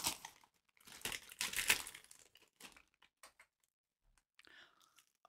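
Plastic packaging from a mailed treat crinkles in close, bursty rustles, loudest in the first two seconds and then fading into sparse crackles with quiet gaps.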